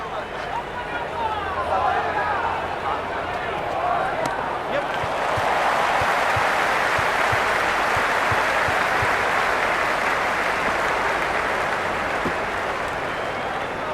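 Crowd in a cricket stadium at an India versus South Africa T20 match: a roaring, sustained wall of cheering that swells midway and stays loud, with voices talking over it.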